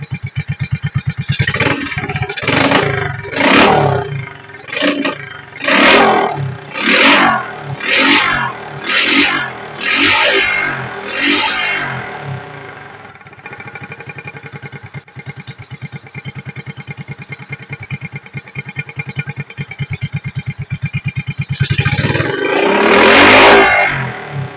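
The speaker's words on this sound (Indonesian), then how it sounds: "Kedengaran bunyi langsamnya itu sudah enak ya." A Suzuki Smash 110 motorcycle engine, its carburetor just adjusted, blips through several rhythmic revs before settling into a steady, close idle, with a final short rev at the end; no one speaks.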